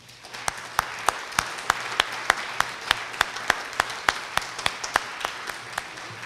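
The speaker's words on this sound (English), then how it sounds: "I just want to give her a big round of applause." Audience applause for a young artist at a youth essay and art contest event, a steady wash of many hands clapping at moderate distance with a few sharper individual claps standing out, no voices over it.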